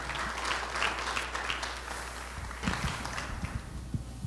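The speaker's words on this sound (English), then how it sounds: "Please give her a big round of applause as she makes her way." An evening event audience applauds a spoken word performer walking up, a fairly steady round of clapping at moderate distance, with a few footsteps and small knocks near the end.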